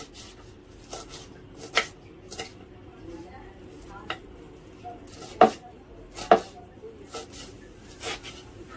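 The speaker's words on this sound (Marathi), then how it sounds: "ही मेथी आपण एकदम अशी बारीक चिरून घ्यायची" Fresh fenugreek leaves being finely chopped with a knife for paratha, a scattered series of soft close knocks against a board with a few sharper louder cuts, over quiet background murmur.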